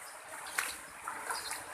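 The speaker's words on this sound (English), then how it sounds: "The water is overflowing from the Moyog River. It's quite swift. The water is fast flowing." Swift floodwater from the overflowing Moyog River at Kampung Dahab, Penampang, rushes in a steady, fairly loud broadband wash with small splashy peaks, close by and without talk.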